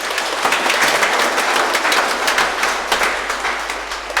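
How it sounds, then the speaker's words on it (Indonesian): A church congregation applauds the liturgy helpers, organist, conductor and choir at Easter service, a steady dense wash of clapping from many hands that fills the room for several seconds without talk. "Tepuk tangan untuk mereka."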